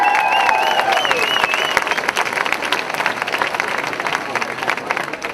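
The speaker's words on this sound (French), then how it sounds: "Applaudissez-vous, ça vaut la peine." A large crowd at a Relay for Life charity event claps for itself, dense sustained applause with cheering and high excited voices early on, loud and near, continuing steadily to the end.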